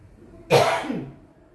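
A single sharp cough bursts out in a home kitchen while fish curry is being cooked, loud and close, fading over about a second with no talk.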